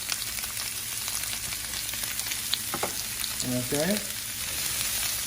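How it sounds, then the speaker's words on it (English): Vegetables go into an oiled pan for a chicken stir fry and sizzle steadily, with a constant hiss of frying running through. A voice briefly speaks near the end. "slightly oil your pan and just go ahead, add our vegetables."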